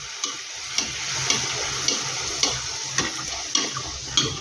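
Ragi flour masala puri frying in hot oil, a loud continuous bubbling sizzle with a regular series of clicks roughly every half second as oil is spooned over, no talking.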